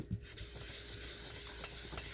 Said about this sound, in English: I'm not using a very coarse sandpaper at all.